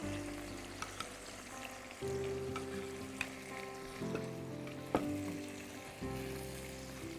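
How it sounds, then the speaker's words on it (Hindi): Chicken frying in a pan with yogurt added bit by bit, giving a steady close sizzle with a low hum and occasional sharp clicks, no talking. "फिर हमें इसको और दही डालकर भूनना है।"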